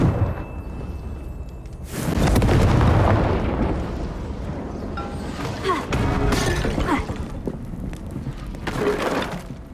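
A Confringo blasting spell going off in Hogwarts Legacy: a loud, crackling, shattering blast erupts after a quieter lead-in, followed by further bursts and debris-like crackles that rise and fall.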